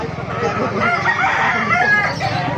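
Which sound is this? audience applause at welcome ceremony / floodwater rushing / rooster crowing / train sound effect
rooster crowing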